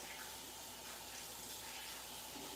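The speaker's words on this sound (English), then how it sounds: "let's go ahead and rinse my veggies" Vegetables being rinsed under a steady stream of running tap water, a continuous broadband splashing rush that stays even and fairly close for the whole stretch, with no talking.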